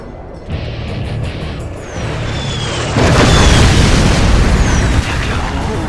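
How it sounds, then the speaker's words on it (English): A particle cannon in a Command & Conquer Generals game charges and erupts into a sustained, loud explosive roar, building in stages and holding as a dense, rumbling blast. "Particle cannon activated."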